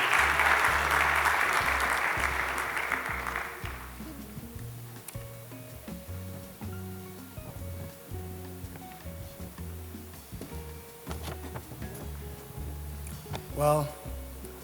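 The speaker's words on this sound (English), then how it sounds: "Let's welcome with a round of applause." Audience applause at a memorial lecture, a dense burst of clapping that fades out over the first few seconds, followed by a speaker talking over a quiet hall.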